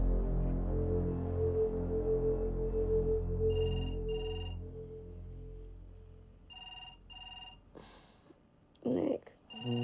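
A telephone rings in a series of repeated trills late at night, sounding over a low droning background. A sharp noise follows near the end.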